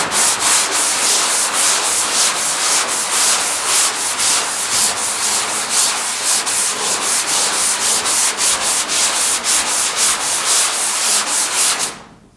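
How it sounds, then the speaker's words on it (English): Hand sanding of body filler along a body line on a GTO restomod, a steady, close, continuous rasping rub with quick rhythmic back-and-forth strokes for about twelve seconds, then stopping. "So let me start sanding this, and we'll see how we're looking."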